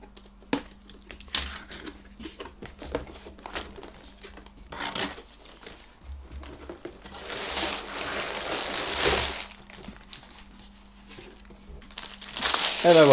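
Plastic bags crinkle and rustle as a box holding a Japanese robot model kit is opened, with scattered crackles and tearing rising to a louder burst near the end, and someone talking between them.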